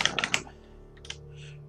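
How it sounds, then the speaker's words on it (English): Keys tapped on a computer keyboard while coding a game in GameMaker Studio 2: a quick burst of three or four close, crisp clicks, then a brief pause and a few softer taps near the end, with no talking. "I'm just going to type,"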